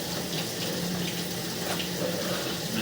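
Water runs steadily through a drain line, a continuous smooth rushing flow at close range with no talking.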